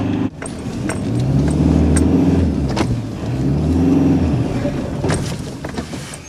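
An ambulance drives through the Velyka Balka neighbourhood onto a city street, its engine droning steadily and swelling twice as it accelerates, with road rumble throughout and no siren or voices standing out.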